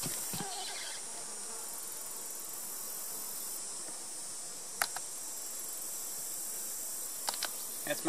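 Honey bees in a hive drone in a dense, continuous buzz, with a few faint clicks and knocks breaking through near the end.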